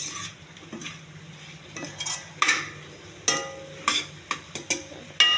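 Bitter gourd curry is stirred in a metal pot with a spoon, giving a run of sharp clinks and scrapes at an uneven pace, close and fairly loud, over a faint background hiss.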